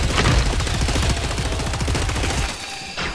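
Rapid automatic gunfire in the game Killing Floor 3, a loud continuous burst of shots close up that stops abruptly near the end, followed by a single short hit.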